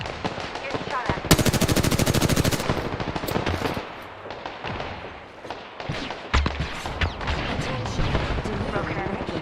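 Automatic gunfire aimed at the player in a video game, with loud, dense rapid-fire bursts and a sharp sustained volley near the start, mixed with game voices and effects.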